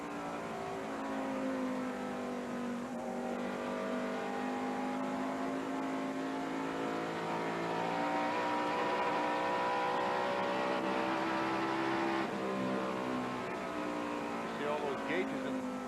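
Dick Trickle's NASCAR Winston Cup stock car engine roars continuously from an in-car camera during a 1990 lap at Rockingham, the pitch rising and falling through the corners and the straights.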